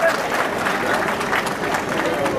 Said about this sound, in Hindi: आइए दोस्तों एक बार जोरदार आदर व सम्मान भरी तालियां माननीय राज्यपाल जी के लिए